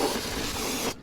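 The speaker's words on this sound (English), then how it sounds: "We're gonna spray brake clean." Brake cleaner sprays from an aerosol can onto a new brake rotor for a Toyota Tacoma 4x4, a steady loud hiss lasting about a second before cutting off abruptly.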